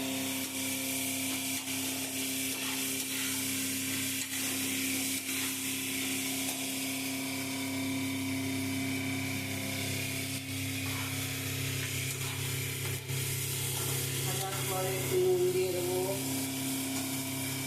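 Onions frying with chicken in a pan, a continuous close sizzle with occasional stirring scrapes and clinks, and a brief louder burst of crackling near the end over a steady background hum.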